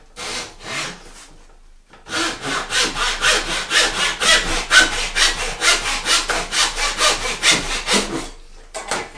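Rhythmic back-and-forth strokes of a hand saw cutting a piece of wood held against a bench hook, close and crisp, about twenty quick even strokes after a brief pause, with no talking.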